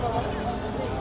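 Goat at a crowded livestock auction in Cebu, bleating in a short wavering cry amid dense background noise and nearby chatter.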